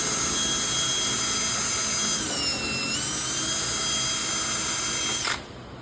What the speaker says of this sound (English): drill it while I hold it?